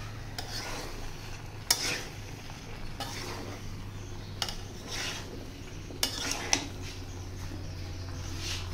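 A utensil stirs spices together with small potatoes in a pan, making soft scraping and rubbing strokes with occasional sharp clacks against the metal over a faint sizzle and low hum, and no speech.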